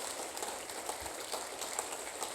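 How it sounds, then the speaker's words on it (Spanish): A church congregation claps during a sermon, making a soft, even patter of many hands that continues steadily at a fairly low level throughout. "Suelte primero el aplauso."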